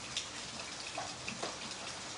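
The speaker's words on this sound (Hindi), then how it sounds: "सुबह से लगातार बारिश जारी है जम्मू में।" Steady rain falling in Jammu, a soft continuous hiss of drops with a few brief splashes, fairly faint and even throughout with no voices.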